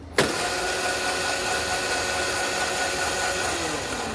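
The electric motor of a Hiboy DK1 kids' electric dirt bike starts with a sharp click and then gives a steady, close, high-pitched whine as it accelerates, its tone slowly rising.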